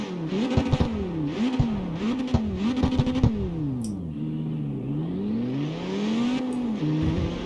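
A car engine revs up and down repeatedly, its pitch rising and falling through gear shifts, loud and close with a rough mechanical edge, a race car in the video game CarX Street.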